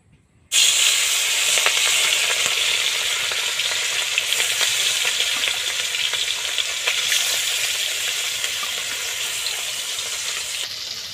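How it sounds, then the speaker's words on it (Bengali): Salt-and-turmeric-coated puti fish hit hot oil in a wok, bursting into a loud, close, steady sizzle that starts abruptly and holds without pause, with faint stirring crackles throughout. "লবণ হলুদ মাখানো মাছগুলো দিয়ে দেবো।"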